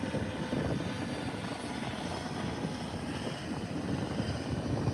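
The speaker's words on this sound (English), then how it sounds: "The helicopter is not flying straight with the beach" A helicopter flies over a deserted island beach, its rotor and engine making a steady, rumbling broadband drone at a moderate distance, with no talking.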